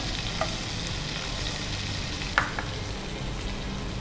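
Butter heating in a pan, ready for onions, gives a steady, fairly quiet sizzle with a couple of brief clinks.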